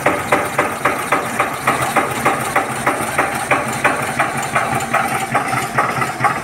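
A tractor engine idles up close with a steady, rhythmic low thumping that stays even and loud throughout.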